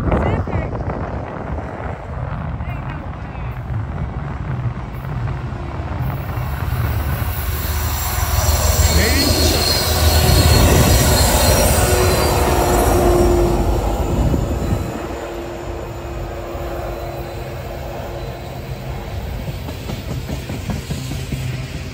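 A southbound freight train rolls past on the old B&O line in southwest Ohio, a loud, continuous rumble of wheels on steel that swells mid-pass, with wheel squeal and some wind buffeting the microphone.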